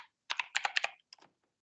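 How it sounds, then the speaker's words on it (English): Typing on a computer keyboard: a quick burst of about six crisp key clicks, followed after a short pause by a few softer taps, close and clear in otherwise silent surroundings. "And just keep typing"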